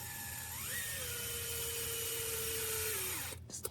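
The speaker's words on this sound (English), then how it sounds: "using an electric screwdriver" An electric screwdriver whirs steadily as it starts a screw during a steering angle lock installation on a Flysky Noble NB4 radio transmitter, its motor pitch shifting partway through before it stops with a small click.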